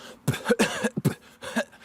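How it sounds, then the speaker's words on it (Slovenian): Sharp, punchy coughs from a beatboxer used as rhythmic beat sounds, about four bursts in quick succession, close and loud with no talking. "Lahko kjerkoli beat narediš tudi iz kašljanja ven."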